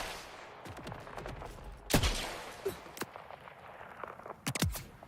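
Gunfire in Borderlands 4, played on PS5: scattered sharp shots and short bursts at uneven spacing, fairly faint overall, with a few stronger cracks standing out, no talk.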